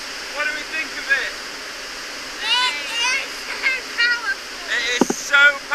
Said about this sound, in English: So, we're at Rheinfalls Waterfalls.